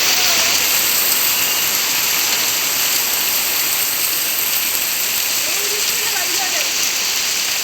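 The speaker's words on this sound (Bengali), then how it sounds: "রাকা বৌদি হ্যাঁ বৃষ্টির মধ্যে যাবে, ভিজবে।" Steady heavy rain pouring down outdoors, a dense continuous hiss that stays loud throughout, with faint voices underneath.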